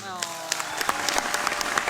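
Audience applause at a televised singing competition as a contestant walks off stage, scattered claps building over a lingering musical tone, moderately loud and slightly uneven.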